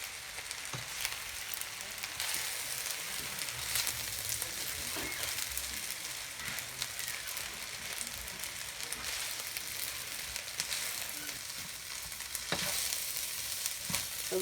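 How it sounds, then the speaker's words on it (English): Mee goreng noodles stirred and mixed as they fry in a pan with oregano, giving a continuous soft sizzle broken by scraping and tossing sounds throughout, fairly quiet and without talk. "So we're going to mix everything up now."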